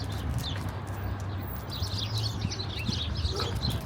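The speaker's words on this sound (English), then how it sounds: "Listen to these birds." Faint bird chirps and tweets come in scattered bursts over a low hum of background noise, distant and quiet.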